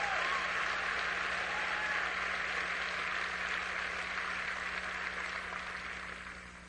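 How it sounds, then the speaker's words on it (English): Dense, steady clapping from a church audience during a sermon by Pastor Paul Washer, a continuous wash of many hands that holds for several seconds and then thins out toward the end. "I don't know why you're clapping."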